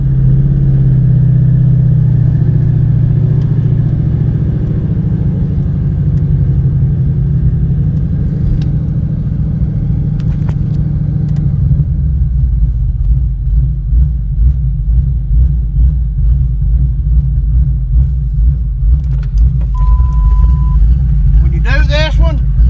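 Loud car engine rumbling steadily, then revving in rough, pulsing bursts during a burnout, with high tire-like squeals near the end, close and continuous.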